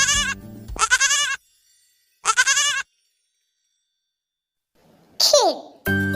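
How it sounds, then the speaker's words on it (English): A goat's bleats, two or three short wavering cries separated by silence, with a brief chime-like sound near the end and a voice cutting in at the very end. "Goat."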